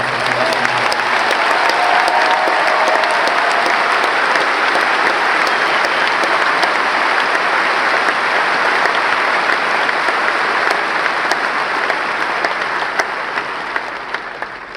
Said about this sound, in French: je suis content d'applaudir mes parents